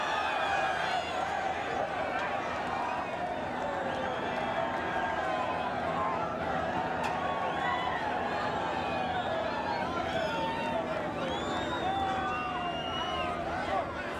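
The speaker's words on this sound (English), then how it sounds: "The crowd, the Holden fans, wild with delight." A crowd of Holden fans at a motor race cheers and shouts in a steady, dense roar of voices that stays constant throughout, with no single sound standing out.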